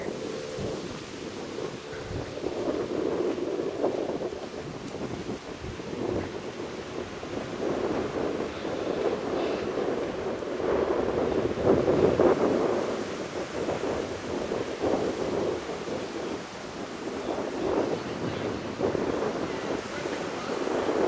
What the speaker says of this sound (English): We're going to walk out onto Turtle Beach and just see what it looks like